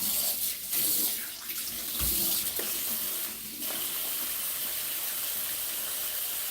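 Tap water runs into a sink while a cucumber is washed, a steady hissing stream with a few splashy bursts and clatters early on, then an even flow.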